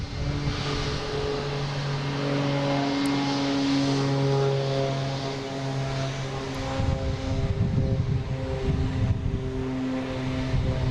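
A Cape Air propeller plane takes off at Boston Logan airport, its engines giving a loud, steady droning roar with sustained humming tones that hold throughout.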